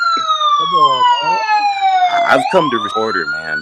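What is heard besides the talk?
siren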